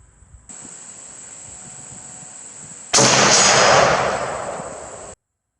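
A single loud, close K1A1 rifle shot bursts out after a quiet stretch of faint background hiss, followed by a brief decaying echo before cutting to silence.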